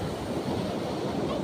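Ocean waves surge in a steady, broad rushing wash with wind buffeting the microphone, loud and continuous throughout with no clear breaks.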